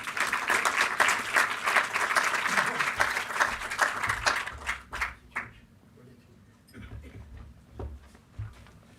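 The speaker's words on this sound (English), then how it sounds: "Please give him a round of applause." Audience applause at a green games industry sustainability summit and awards, steady dense clapping for about four seconds that thins into scattered claps and fades.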